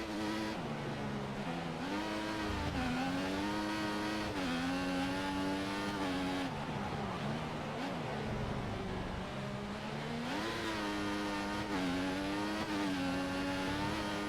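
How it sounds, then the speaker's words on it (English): Formula 1 car engine screaming at full revs in the F1 2014 racing game, a loud high-pitched whine that rises and dips with gear shifts, continuous and heard alone. "He's running full revs, maximum power."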